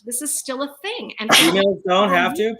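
A single sneeze bursts out in the middle of a spoken discussion, loud and close, with talking before and after it.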